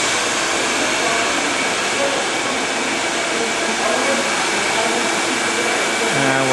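A GEM GBM3143 glass bevelling machine runs with a constant, loud broadband whir and grinding hiss, steady throughout, with a voice faintly under the noise.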